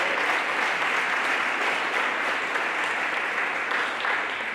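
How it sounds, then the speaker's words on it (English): A crowd at an athletics hall of fame induction applauds continuously, a thick, even patter of many hands clapping that holds steady and eases slightly at the end. "round of applause for all of those."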